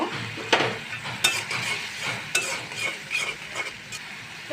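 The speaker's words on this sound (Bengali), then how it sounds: "চিংড়ি মাছটা দিয়ে আমি একটু কষে নিয়েছি" Shrimp sautéing in a pan with pumpkin, a continuous sizzle broken by repeated sharp scrapes and clacks of a spatula stirring at a brisk, irregular rhythm, close and fairly loud, with no talking.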